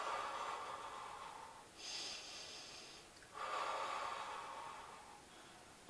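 Audible breathing during a Pilates workout: slow, soft breaths in and out, ending in a longer steady exhale, close and fairly quiet with no talk.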